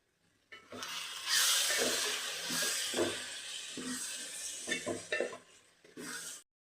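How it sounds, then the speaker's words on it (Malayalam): Plenty of curry leaves hit hot oil in a pan for chicken chili, giving a loud crackling sizzle with stirring scrapes and clinks of utensil against metal, swelling and easing in bursts. "ഇതിലേക്ക് കുറച്ച് അധികം തന്നെ കറിവേപ്പില ഇട്ട് കൊടുക്കാം"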